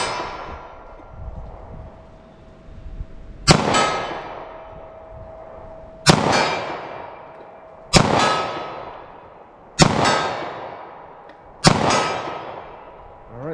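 Five loud, sharp pistol shots at the range, spaced a couple of seconds apart, each one ringing and decaying before the next, with a faint ring from the target.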